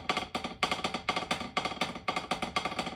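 Snare drum buzz roll played as a hybrid between buzz and double-bounce strokes, repeating in short rhythmic bursts of dense rolled strokes with brief gaps, close and fairly loud, no talking.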